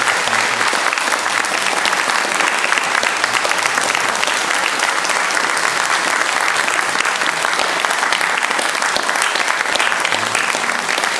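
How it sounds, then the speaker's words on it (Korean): A church congregation at a Sunday morning service applauds while elders present a gift, a dense, steady wash of clapping from many hands that holds at full strength throughout. "선물 전달할 때 큰 박수로 우리 한번."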